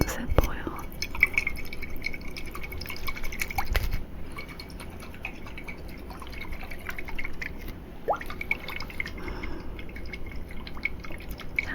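Rosehip oil is poured while mixing a body oil: soft close trickles and drips with light clicks and handling noises, alongside quiet whispering.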